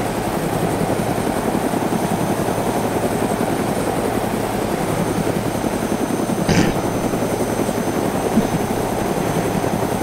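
A video-game helicopter flies with a steady, close rotor thump and engine drone that barely changes, with one brief sharp burst partway through.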